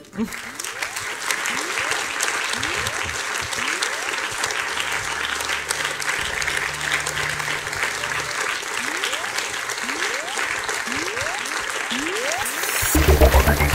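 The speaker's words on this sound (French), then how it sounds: "Et on peut les applaudir." Sustained applause from a conference audience in a hall, steady and full for about thirteen seconds, rising slightly at the end, with a few faint voices mixed in.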